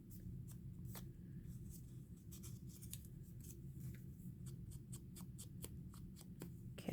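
A sheet of paper is folded by hand: faint, close rustles and crisp creasing swipes come in short irregular strokes over a quiet background.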